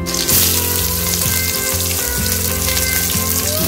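Chopped onions fry in hot oil with whole cumin for a Bengali chicken kosha, giving a close, loud, continuous sizzle with bubbling crackle.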